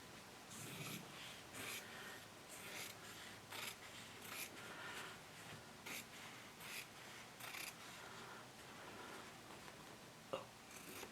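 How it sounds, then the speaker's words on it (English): Kai scissors cut along a piece of fabric, a run of crisp repeated snips and rustles close by, fairly quiet and alone with no talking. "Let me grab my Kai scissors. Just going to cut right along here."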